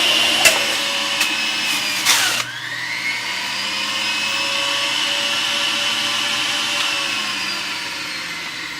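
A Breville JE98XL juicer grinds a whole apple, with sharp crunching bursts over a steady motor whine; after about two seconds the crunching stops and only the smooth, fairly loud motor hum runs on alone.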